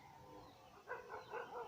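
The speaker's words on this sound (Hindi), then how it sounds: "ये तो कुत्ते कुत्ते भौंक रहे हैं गाइस" Dogs bark at night in a forest area, a few short yelping barks at a distance, faint against a steady background hiss.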